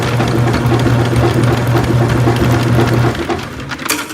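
An Albott electric auto-feed drain snake machine winds back its 75 ft by 3/8 inch cable with a steady, loud motor hum and rattle that cuts down and fades near the end.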